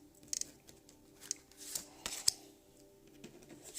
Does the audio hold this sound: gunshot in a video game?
no